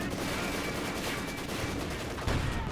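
Dense, continuous machine gun fire from a Maxim and tank-mounted machine guns in the Company of Heroes 2 strategy game, a steady crackling burst with a heavier thump near the end.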